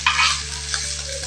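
Spatula scraping and stirring fried rice in a hot frying pan, with a steady close sizzle and brisk scraping strokes near the start.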